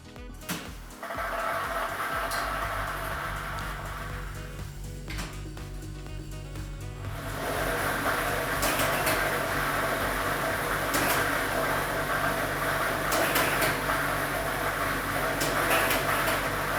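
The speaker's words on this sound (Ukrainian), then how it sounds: "Тиражна комісія до початку гри довільно обрала лототрон Б комплект кульок номер 3 і ми вмикаємо лототрон." Lottery drawing machine, set B with ball set number 3, for a state lottery draw, starts up and runs as a loud continuous whirring roar with a dense rattle of tumbling balls, growing louder after a few seconds.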